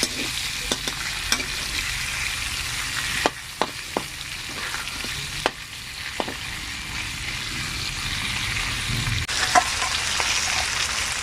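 Chicken pieces browning in garlic butter in a pan, a continuous close sizzle and crackle with occasional sharp pops and utensil taps, steady throughout.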